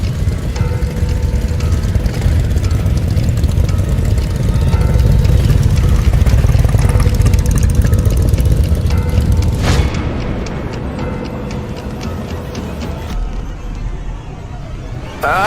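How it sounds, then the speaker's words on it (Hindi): A deep, rumbling motorcycle engine grows louder and steadier, its low roar dominating before easing off toward the end. "मोटरसाइकिल की आवाज आई।"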